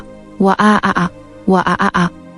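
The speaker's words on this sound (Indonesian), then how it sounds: "Suara burung itu mengejutkan kami berdua." A bird call sound effect for a horror story, two loud honking bursts of several harsh, nasal goose-like squawks each, close and clear with a short pause between them.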